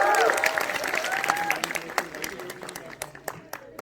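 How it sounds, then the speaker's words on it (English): Applause from a conference audience at Bharat Mandapam in New Delhi, scattered claps rising over crowd chatter and a loud voice, thinning to sharp individual claps by the end. "Can we have a round of applause for Meena"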